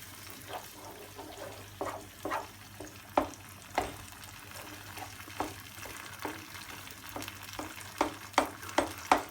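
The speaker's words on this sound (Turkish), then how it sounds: "İyice eriyinceye kadar karıştırmaya devam edeceğim." Mıhlama of cornmeal and cheese is stirred in a pan with a spoon, giving repeated scraping clicks at a steady, irregular rhythm over a low sizzle and faint running-water background.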